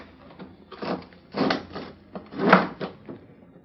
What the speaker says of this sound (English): Open that window, Pete.